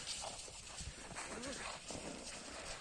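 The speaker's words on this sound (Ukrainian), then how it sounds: "Коні застояні." Heavy Novooleksandrivka draft mares walking through deep snow, their muffled, uneven steps continuous and close against a steady wash of outdoor noise, with faint voices in the background.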